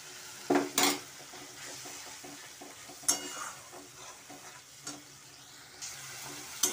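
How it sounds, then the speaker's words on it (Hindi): Spices for chole paneer roast in a pan with a soft continuous sizzle, punctuated by a few sharp scrapes and clinks of a spoon stirring against the metal; no one speaks. "मसालों को हम अच्छी तरह से भूनेंगे।"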